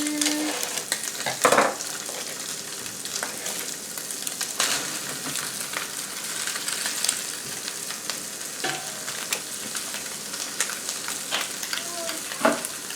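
Italian sausage meat sizzling in a preheated pan, a continuous crackling hiss broken by occasional sharp taps and scrapes of a utensil chopping and spreading the meat; no voices.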